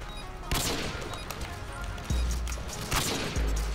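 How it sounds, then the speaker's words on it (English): Gunfire in the video game Modern Warfare 2, several sharp, heavy shots fired at irregular intervals, each a loud close bang with a short tail, some in quick pairs. "I'm gonna just shoot randomly."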